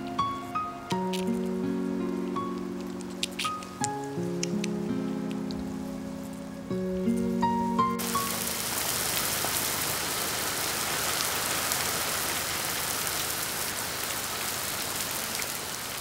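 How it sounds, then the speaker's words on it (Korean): Rain falling on the Janghang wetland in Korea: after a stretch of tonal music, a dense, even hiss of rainfall pours down steadily and fills the second half. "비가 내리자"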